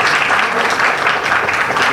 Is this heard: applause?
yes